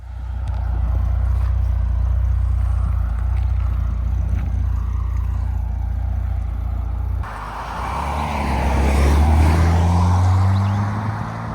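A Mercedes W108 280S revived from a barn find idles with a loud, deep engine rumble, then pulls away with a rising, strengthening engine note heard from close by.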